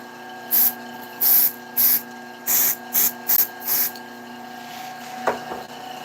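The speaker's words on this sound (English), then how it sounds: "I'll hit that with a little bit of Satellite City Accelerator." Satellite City super glue accelerator sprayed onto a wood turning, seven short sharp hissing bursts in an uneven rhythm, close and loud over a faint background hum.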